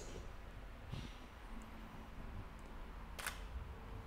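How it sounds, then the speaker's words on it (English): Sony A6300 mirrorless camera with a 2.4G trigger mounted firing a battery-powered outdoor studio strobe: one sharp shutter click near the three-second mark, close and clear over a quiet room hiss. "I'm gonna just hit the shutter button"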